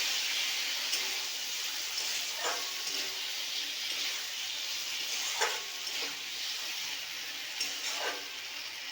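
Fish masala sizzles and fries steadily in a pan after spice-rinse water goes in, with a constant close hiss and occasional stirring scrapes and soft clinks of the spatula, no talking.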